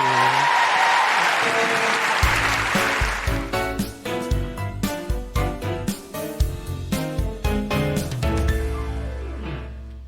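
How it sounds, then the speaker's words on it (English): A crowd at a live show in Melbourne claps warmly for a couple of seconds before the applause fades under a burst of instrumental music that takes over. "A big round of applause for Amal Leota Lowe"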